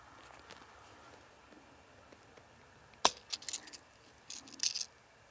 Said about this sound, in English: Pop this mag back in.